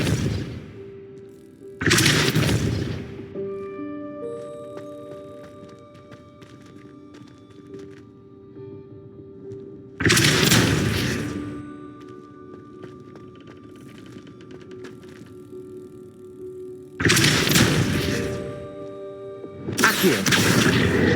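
Depulso spell effects in Hogwarts Legacy land as heavy booming thuds with whooshing tails, four loud blasts spaced several seconds apart over a quieter ambient hum.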